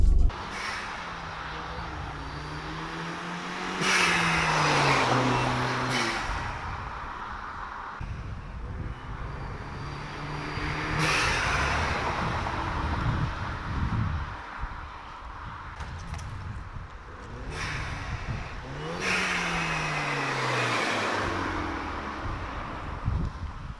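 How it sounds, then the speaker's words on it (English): Several passes of a Hyundai Genesis Coupe 2.0T with an Injen cold air intake, each rising to a loud whoosh and engine roar before fading, with a steady background hum between passes. "I'll probably throw in a few clips right now of like drive-bys and whatnot"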